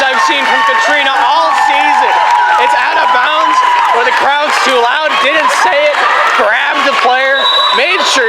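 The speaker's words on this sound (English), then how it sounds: "the crowd's too loud" Loud, constant crowd cheering and shouting fills a gym at a SWCAC finals high-school volleyball game between the FBCS Eagles and PCS Warriors, with a commentator talking over the roar throughout.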